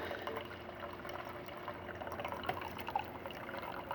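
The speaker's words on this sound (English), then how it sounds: "Nice steady stream of water." A steady stream of hot water pours without a break from a DeLonghi Magnifica espresso machine, close by, over a low machine hum.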